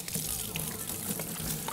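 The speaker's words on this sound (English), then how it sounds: "Just gonna wash my hands." Running tap water pours steadily over hands being washed in a home kitchen, a continuous close gush with no talking.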